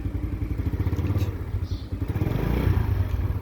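A motorcycle fitted with an enlarged 15-tooth front sprocket revs steadily in neutral during a test, with a continuous close engine drone that swells slightly toward the end.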